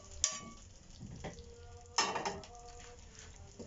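Spoon stirring string beans into beef kare-kare in a pot, with soft clattering scrapes at the start and again midway over a faint background simmer.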